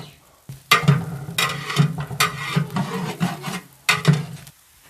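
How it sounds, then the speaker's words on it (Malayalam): Whole spices being stirred in a large pot for a big batch of Saudi beef kabsa, repeated scraping strokes of a spoon with light sizzling, in uneven bursts with short pauses between. "എന്നിട്ട് നന്നായി ഒന്നുകൂടെ ഇളക്കാം."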